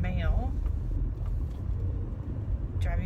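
A car drives along a road with less traffic past a DMV, giving a steady low engine and road rumble throughout, with a voice briefly heard at the start and end.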